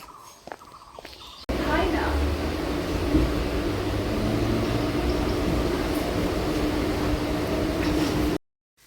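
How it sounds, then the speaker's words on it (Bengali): A local passenger train pulls out of Bagula toward Ranaghat, heard from on board. A loud, steady broadband rumble starts abruptly after a quiet opening and holds evenly until cutting off near the end. "বগুলা থেকে ট্রেন ছেড়ে এলো"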